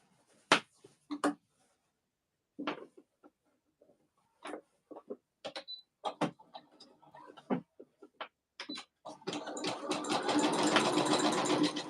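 Sewing machine stitching extra seams on an enchanted skirt, heard as a steady, close whirring burst in the last few seconds after a stretch of scattered clicks and handling sounds.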